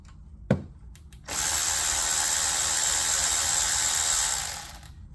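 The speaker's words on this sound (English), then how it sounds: "And remove the bolt." A ratchet wrench clicks once. Then it spins steadily for several seconds, a loud continuous whirring as the bolt holding a brake sensor connector on a Mercedes S550 W222 comes loose with an inverted Torx 10 socket.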